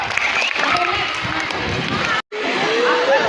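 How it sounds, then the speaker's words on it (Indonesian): Audience applause at an indoor event for a young participant, a dense continuous patter of clapping mixed with crowd murmur, broken by a brief dropout, with voices speaking over it. "Beri tepukan buat Adi Jericho."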